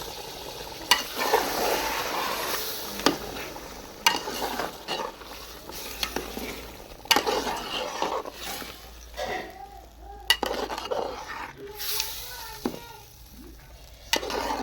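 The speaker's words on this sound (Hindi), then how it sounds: "टमाटर, दही पा दी, चिकन पा दिता। मैंने चंगी तरह भुना दो।" Chicken with tomato and yogurt fries for biryani, a constant close sizzle with repeated scraping and stirring of a spoon in the pan, while someone talks over the cooking.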